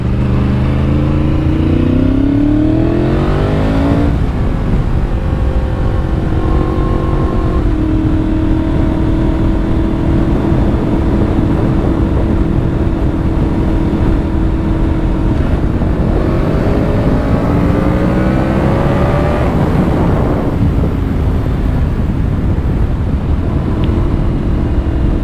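A Yamaha R1 sport motorcycle idles loud and close, and a very touchy throttle makes its engine note surge and fall in uneven rising and falling revs.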